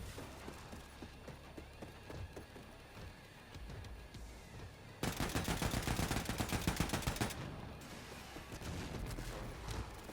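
Rifle and laser gunfire from the video game Wolfenstein 2: rapid shots crackle in the background, then a loud burst of fast repeated fire dominates the middle before easing back to scattered shots.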